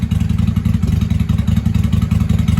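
A 1995 Honda Shadow 600 VLX (VT600CD) motorcycle engine runs steadily close by, a loud, even low-pitched V-twin throb that holds throughout with slight pulsing and no voices.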